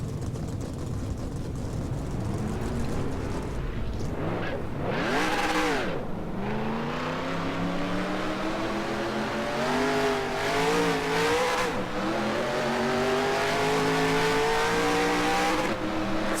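NASCAR race trucks in the NASCAR Racing 2003 video game start and rev up together, their engine drone rising and swelling loudly and continuously for the whole stretch, with no one talking.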